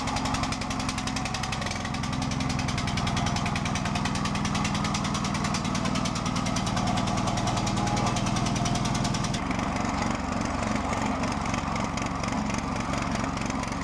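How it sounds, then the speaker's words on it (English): A DR Field & Brush Mower's small petrol engine runs loudly and roughly nearby, its rapid knocking chatter shifting in pitch and rhythm partway through, with no voices. "The engine didn't really sound as though it was running correctly, but it was running until it wasn't."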